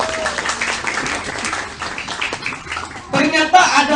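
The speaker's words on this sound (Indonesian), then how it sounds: "Oh, tepuk tangan untuk kita semuanya." At a corporate religious talk an audience bursts into applause near the end, a brief, loud, close patter of clapping hands that rises after a stretch of someone speaking.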